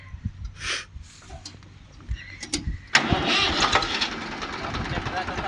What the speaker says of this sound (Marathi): आपण ट्रॅक्टर आता चालू केलेला आहे.